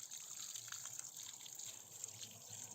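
Water runs steadily from a tap, a continuous trickling gush as a goat's head is rinsed beneath it, fairly faint and with no voices.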